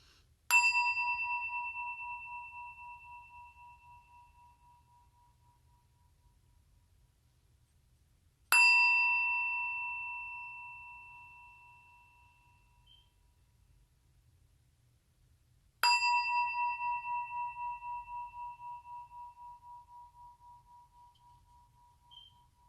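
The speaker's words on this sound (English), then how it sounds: "This singing bowl been wanting to sing all day." A singing bowl used as a sound-healing tool is struck three times at slow, even intervals, each strike ringing out clearly with a pure, sustained tone that decays slowly into near silence.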